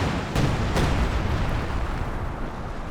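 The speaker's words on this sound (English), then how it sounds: "Sounds like we've got some counter barrage going on." Artillery counter barrage in the strategy game Company of Heroes 2: a dense, continuous rumble of distant explosions with a couple of sharper booms breaking through early on, loud and unbroken.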